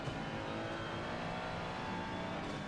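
Race cars roar away from the start at Brands Hatch in a Senior Racing Club championship, a Mercedes and a McLaren among them, their engines forming a loud, dense, continuous blare of accelerating motors with no pauses.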